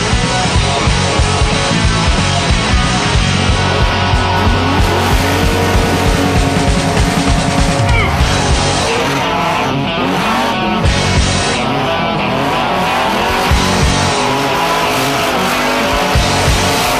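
A T-bucket hot rod's engine revs hard with tires squealing and skidding, loud and continuous throughout, with the engine pitch rising and falling.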